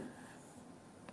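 Chalk or pen scratching across a board during a maths lesson on simple interest, a brief close rubbing stroke with a sharper tap at the end, heard alone.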